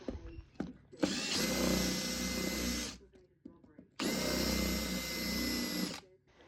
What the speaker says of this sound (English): Then you countersink the holes.